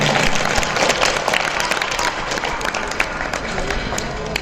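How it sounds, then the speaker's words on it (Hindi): Applause from the audience at a farewell ceremony for transferred teachers, dense and steady clapping filling the room for several seconds with some voices mixed in. "तालियों की बंदोबस्त नहीं होनी चाहिए।"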